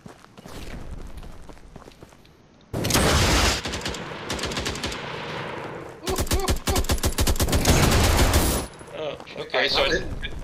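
Rapid gunfire in the Plasma Storm video game, with long bursts of automatic fire broken by quieter stretches with footsteps, loud and close.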